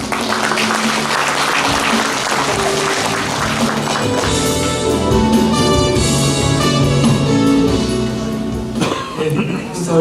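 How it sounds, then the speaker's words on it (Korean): An audience at a year-end thanksgiving gathering of a Buddhist meditation center applauds a former provincial vice-governor, a loud sustained wash of clapping with music and voices mixed in, fading near the end. "전 부지사님께 큰 박수 부탁드립니다"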